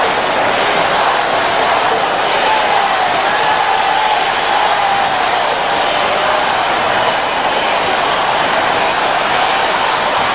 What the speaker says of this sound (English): The crowd is chanting, "We want Campbell."